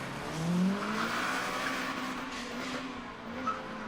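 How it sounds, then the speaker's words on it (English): A car in a video game revs and whooshes past at moderate distance, its pitch shifting as it goes by, with no voices. "a car with windows tinted dark as night sped past."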